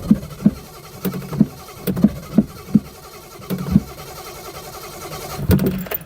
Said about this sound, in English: I know the engine starts